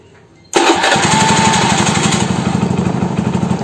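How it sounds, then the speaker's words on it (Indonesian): A motorcycle's electric starter cranks the engine, kicking in abruptly after a quiet moment and chugging loudly in a rapid, even rhythm close by. "Nah coba kita kontak ya motornya, kita pencet double starternya"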